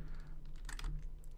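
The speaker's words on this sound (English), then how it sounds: "Oh, come on, the keyboard's staying stuck." Computer keyboard keys are pressed in a quick, close burst of clicks during gameplay, with a sticking key and a brief hum of background noise and no talking.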